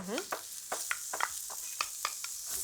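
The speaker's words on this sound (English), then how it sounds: "garlic into the pan with some olive oil" Garlic and grated carrot frying in olive oil in a pan, with a soft continuous sizzle broken by repeated sharp scrapes and clicks of a spoon stirring, close and fairly quiet.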